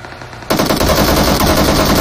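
Loud, rapid automatic gunfire in the PUBG Mobile battle royale game bursts in suddenly and keeps rattling close and continuous to the end.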